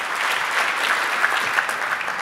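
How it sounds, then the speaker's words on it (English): An audience at a water summit applauds the panel guests with close, dense, continuous clapping that stays at a steady level. "Would you please give our guests a round of applause?"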